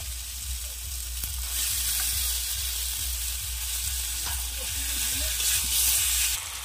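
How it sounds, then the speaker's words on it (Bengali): Meat hits a hot pan for a Bengali meat curry, giving a continuous bright sizzle with a spoon or spatula stirring and scraping at intervals, close and steady throughout. "এইবার আমি মাংসটা দিয়ে দিচ্ছি।"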